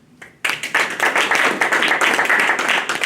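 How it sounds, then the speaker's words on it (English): A room full of people at an award ceremony claps steadily, a dense, sustained round of applause starting abruptly after a brief pause. "we can give her a round of applause"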